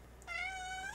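Kitten gives one clear, rising then steady meow, close and fairly quiet, alone without any voices.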